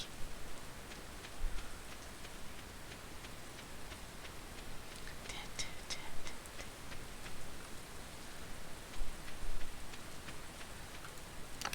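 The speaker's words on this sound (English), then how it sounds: "thank God it's raining in the game." Steady rain falls in a video game, a dense continuous hiss with scattered ticking drops on a surface, fairly loud and even throughout with no talking.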